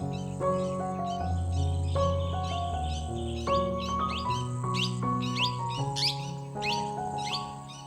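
Birds chirp and tweet in quick, scattered bursts over a steady, tonal background hum, moderately loud throughout.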